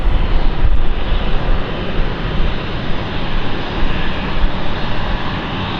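A City Flyer airliner arriving from Glasgow at London City Airport roars past close by, a loud sustained jet engine rumble and whine lasting throughout with no voices.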